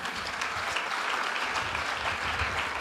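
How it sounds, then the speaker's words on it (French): An audience claps steadily throughout at an evening question-and-answer gathering, a dense and even sound of applause. "On acclame bien."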